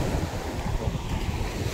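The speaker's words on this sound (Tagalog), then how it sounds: "hindi masyadong malakas yung alon ng mga kaibigan" Ocean waves wash onto a beach near a nipa hut area, a steady close surf roar mixed with gusty wind buffeting the microphone throughout, with no voices.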